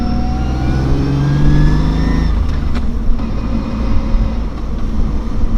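A Lexus IS300 just after a spark plug replacement drives off, its engine revving up through rising gear sweeps, then shifting and settling into a steady loud mid-pitched drone with road noise.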